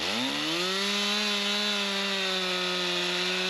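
Stihl MS 360 chainsaw with a 3/8 full-house chain cutting firewood, its engine rising quickly to a loud, steady high-revving whine that holds close and alone throughout the cut.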